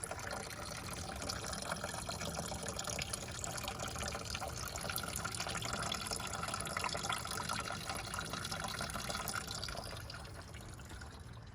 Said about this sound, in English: Just sitting out here draining the washer fluid reservoir.